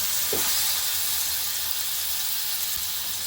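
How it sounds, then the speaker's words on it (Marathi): Spice paste fries in oil in a pan for stuffed okra, a loud, even sizzle and hiss lasting the whole moment with a small clatter near the start. "हे वाटण ते आपण याच्यामध्ये पॅनमध्ये परतून घ्यायचं आहे"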